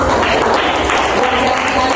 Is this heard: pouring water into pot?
no